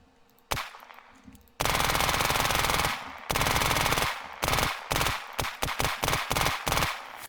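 Zubeknakov gun firing at a tree in the Unturned video game, a long loud sustained automatic burst followed by several shorter bursts and then rapid choppy volleys, with no talking.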